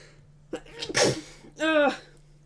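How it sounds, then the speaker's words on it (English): A single close sneeze, a sharp intake then a loud explosive burst, with a faint voice sound just after and a low steady hum underneath. "making me sneeze."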